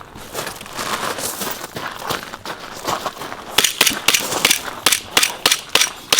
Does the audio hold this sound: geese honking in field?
no